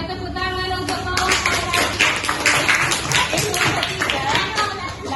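Schoolchildren in a classroom clap together in a rhythmic patterned burst, sharp hand claps close and loud over a busy room, with voices mixed in.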